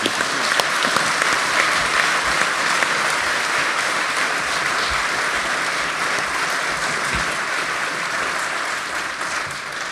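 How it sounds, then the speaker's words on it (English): A crowd applauds steadily and loudly for speakers at the close of a Scottish independence debate, the dense clapping filling the room throughout and easing off only slightly toward the end. "I think one final round of applause,"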